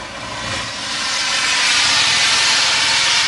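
Steam locomotive venting steam as about 100 gallons of boiling water hisses, a loud, steady broadband roar that swells over the first seconds and holds close and continuous with no talk.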